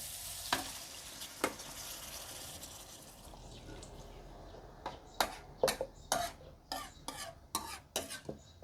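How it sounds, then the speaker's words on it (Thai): Water poured into a hot pot while cooking pork ribs with bamboo shoots, a steady sizzling hiss followed by a series of sharp, close splashing and clattering bursts. "แล้วก็ใส่น้ำลงไปนะคะ"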